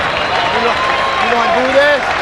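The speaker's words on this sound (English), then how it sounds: "take to their feet and applaud the display that Bernard Hopkins has put on in this world middleweight fight" Boxing crowd at a world middleweight fight rising to its feet, a continuous wash of clapping and cheering under a ringside commentator's voice.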